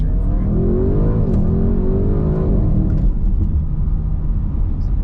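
A 2021 Audi RS6 Avant accelerates hard, its loud engine note sweeping upward through a gear change and then settling into a sustained roar, heard close from inside the car without talk.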